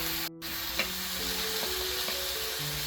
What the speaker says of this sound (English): we add our onions, fresh tomatoes, and red chili and give everything a good saute until beautifully combined